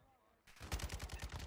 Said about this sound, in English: we're being straight fired on by a group of fools